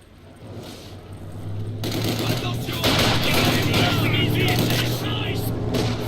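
Heavy machine gun fire in a real-time strategy battle game, a dense continuous rattle of rapid bursts that kicks in loudly and keeps going under other battlefield noise, with a faint steady hum beneath.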